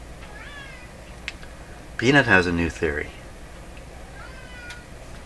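A pet cat gives a short meow near the start and another at the end, both fairly faint. Someone speaks briefly between the meows.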